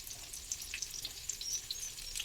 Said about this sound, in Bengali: বিভিন্ন রকম চিকেন আইটেম বেশ ট্রাই করছি, ভাজা হচ্ছে আস্তে আস্তে